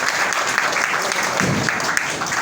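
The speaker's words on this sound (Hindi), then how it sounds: "एक बार यहाँ के डॉक्टर साहब लोगों के लिए ताली बजाकर को धन्यवाद दीजिए" An audience at a public gathering claps for the local doctors, a dense, steady, loud applause that lasts throughout, with faint voices mixed in.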